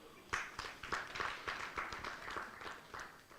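A symposium audience at the CropLife Uganda inaugural event claps in a round of applause, fairly quiet and distant, with individual claps pulsing irregularly for a few seconds.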